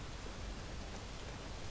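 Rain in the video game Relics of Hyrule: a faint, even hiss of falling rain, steady and featureless for under two seconds with no other sounds.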